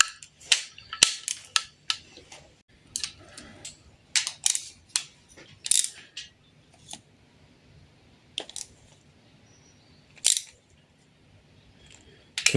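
Sharp clicks from a torque wrench tightening 1.3 MultiJet engine bolts, coming in short bursts and single snaps with quiet gaps, close by in a workshop.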